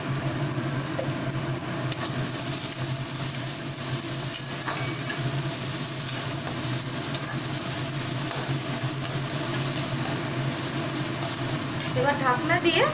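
Spices fry in a pan while being stirred, a steady crackling sizzle with scraping stirs throughout and a brief clatter at the end.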